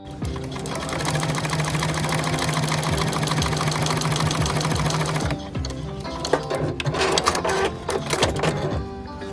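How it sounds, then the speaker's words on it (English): Sewing machine stitching a 1/4 inch seam through fabric scraps, running steadily and close for about five seconds before stopping, followed by softer handling and rustling sounds. "I only want to sew where the fabric is underneath, along that seam, and I'm going to sew a 1/4 inch seam allowance."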